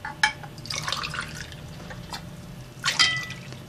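Water is poured onto sugar in a pot for a cold dessert syrup, heard as two short bursts of trickling, splashing liquid with faint drips in between.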